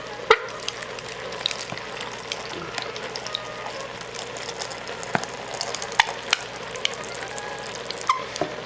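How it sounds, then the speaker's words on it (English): A spoon stirs ketchup and maple syrup into maple bacon jalapeno beans in an Instant Pot, making a continuous wet, sizzly churning with scattered sharp scrapes and clinks against the pot. "We're going to give this a little mix-a-roo around, like so."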